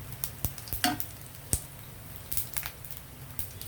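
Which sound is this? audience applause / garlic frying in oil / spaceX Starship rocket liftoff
garlic frying in oil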